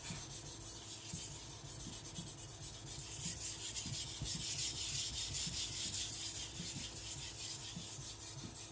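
A Tojiro white steel shirogami nakiri blade is thinned on a sharpening stone with repeated back-and-forth rasping strokes, close and steady, with no talking.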